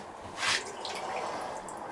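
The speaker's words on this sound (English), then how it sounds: "so I'll wash them in the acid" Metal foils from RAM sticks washed off by hand into a container of acid during gold recovery from e-waste, heard as a brief near splash and drip followed by quieter trickling liquid, with no one speaking.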